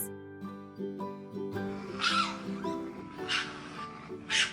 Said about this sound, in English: It's a raccoon.